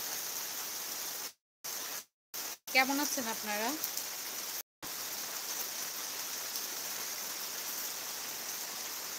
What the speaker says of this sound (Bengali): মাত্র কারেন্টটা চলে গেল, তো বৃষ্টিটা অন্ধকারে দেখাতে পারছি না, মেবি শব্দ শুনতে পাচ্ছেন।